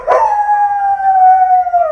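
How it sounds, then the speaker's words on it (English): A dog howls in one long sustained wail, starting with a brief rough onset and then holding a steady, slightly falling tone, loud and close, with no other sounds over it. "She just stayed in the same spot, howling continuously as she fixated on the car."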